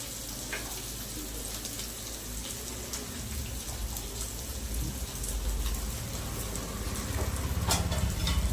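Sliced bitter gourd sautéing in a pan over a low gas flame, a steady close crackling sizzle with occasional pops that grows slightly louder toward the end, with no talking.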